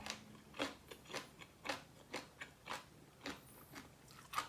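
Crisp, crunchy bites of food being chewed close to the mic during a meal of bitter Thai-Lao larb, about a dozen sharp crunches at a steady rhythm with no talking.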